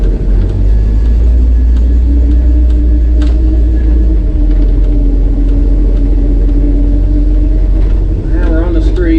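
Old car with manual steering and a running engine rolls slowly around a carport, a loud steady low rumble throughout with light knocks and rattles, while a person talks over it.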